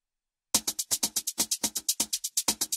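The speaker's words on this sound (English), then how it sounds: "Let's add some more distortion with the total harmonic distortion." A drum loop pushed through heavy harmonic distortion, starting after a short silence, then steady rapid hits with crunchy, saturated high end and punchy low thumps, loud and alone.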